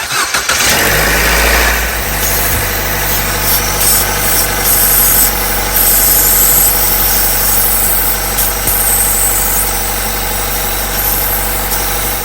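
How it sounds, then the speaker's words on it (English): A Chevy Cruze engine with a faulty PCV valve cranks and catches within the first two seconds, then settles into a steady, loud idle that hums on without interruption. "the very first thing we need to do is to start up this car"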